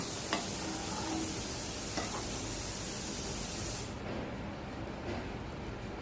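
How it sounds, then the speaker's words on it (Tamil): A pot of drumstick (moringa) curry bubbles and simmers with a continuous hissing, crackling texture, punctuated by a few faint taps, fairly close. "நல்லா சலசலன்னு கொதிச்சுக்கிட்டு இருக்கு"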